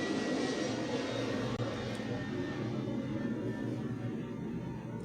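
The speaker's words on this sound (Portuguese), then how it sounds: "Passou o avião." An airplane passing overhead, a steady broad engine roar that stays loud and continuous throughout with no speech over it.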